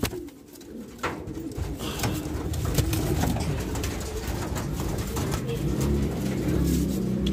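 Pigeons, including young birds, coo in a loft, a steady low throaty cooing close to the microphone with occasional soft rustles and a voice talking underneath.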